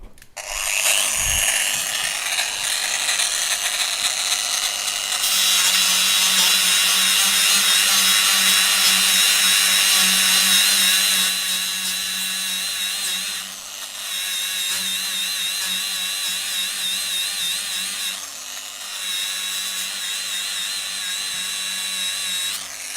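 A Tyrolit abrasive disc on an angle grinder grinds a small weld spot off steel plate: a loud, continuous high whine and grinding rasp lasting over twenty seconds, dipping briefly a couple of times as the pressure changes, with no talk.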